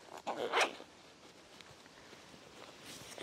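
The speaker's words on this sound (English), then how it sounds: "If I hold the loop on the bottom, the zips just do up nice and easy." A zipper on a Helikon-Tex mini med kit pouch zips up in one quick close pull near the start, followed by faint handling noise.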